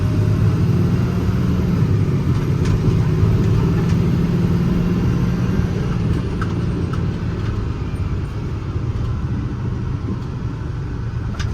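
A 2018 International 4400 truck with a 6.7 Cummins engine, Allison automatic transmission and air ride rear drives along, its steady low engine rumble and road noise holding constant and fairly loud without pause.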